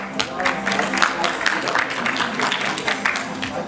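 Steady crowd clapping at a certificate ceremony, a continuous wash of hands applauding at moderate loudness, with a few sharper individual claps standing out.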